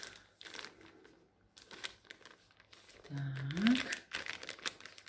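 Plastic packaging bag from an AliExpress beauty order crinkles in bursts beside a speaking voice, sharp rustles and crackles coming and going close by.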